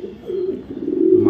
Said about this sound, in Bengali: এক রেসিং হুমা একটা মেল কবুতর